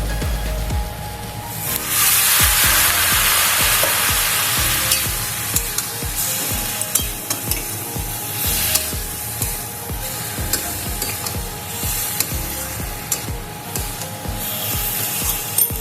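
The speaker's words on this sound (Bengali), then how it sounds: "মশলাটা দিয়ে আমি খুব ভালো করে কষিয়ে নিয়েছি।" Spice paste being fried and stirred in a pan for a Bengali small-fish chorchori, a loud close sizzle with continuous scraping and rubbing of a spatula against the pan, no speech.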